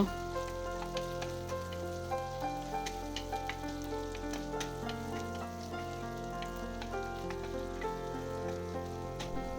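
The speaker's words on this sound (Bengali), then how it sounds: "আবারও 2 মিনিট ভেজে নেব, আদা রসুনের কাঁচা গন্ধটা চলে যাওয়া পর্যন্ত" Ginger and garlic paste fries in a pan with a steady, close crackling sizzle throughout, under a faint background hum.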